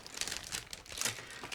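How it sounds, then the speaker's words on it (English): Crinkly plastic bag of parts from a 1/32 ICM Gloster Sea Gladiator Mk.II model kit being torn open, with close, irregular bursts of crumpling and rustling. "now I'm trying to open the second plastic bag"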